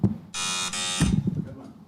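A game show buzzer pressed at a high school telethon gives one loud, sustained electronic buzz of about a second, broken by a brief dip partway through, with voices following right after it stops.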